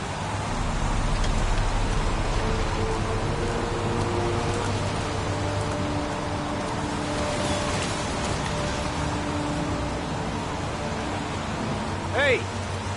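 Steady rainfall in the video game Heavy Rain hisses without a break, a dense wash of falling water joined by a low rumble, with a brief chirp near the end.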